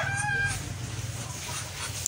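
Three small ducklings on a rural farm in Albay province, Philippines, give a few thin, high peeping calls close by in the first half-second, then fall quiet over a low steady hum.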